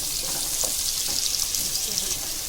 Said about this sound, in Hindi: अब इसमें हम प्याज डालेंगे। हमने इसमें प्याज डाल दिया है